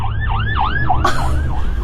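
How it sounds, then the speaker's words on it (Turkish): An ambulance siren wails from behind a moving car, a steady rising-and-falling yelp repeating several times, fairly loud over low road rumble. "Meğer sistem arkadan gelen ambulansın sirenini algılamış"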